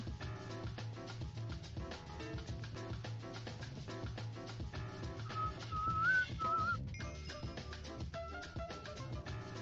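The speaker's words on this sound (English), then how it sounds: "Try not to whistle too much" A person whistles a wandering tune over steady background game music while playing Minecraft, the whistle rising and falling in clear held notes mid-clip.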